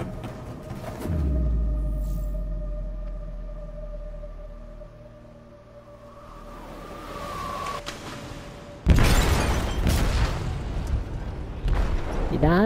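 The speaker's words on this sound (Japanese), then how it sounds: "貨物室で爆弾が爆発しました。" A bomb detonates in a ship's cargo hold in the Detroit: Become Human video game: a low rumble and a wavering alarm-like tone give way to a sudden, loud, broadband blast that keeps roaring afterward.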